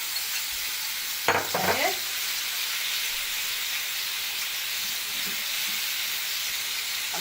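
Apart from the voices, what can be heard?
marinated chicken shawarma frying on a grill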